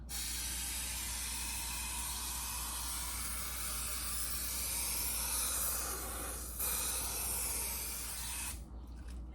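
Aerosol can of 3M 90 spray adhesive hisses in one long steady burst, applied to padding under the rear window of a 1972 VW Super Beetle, close and loud, cutting off sharply near the end.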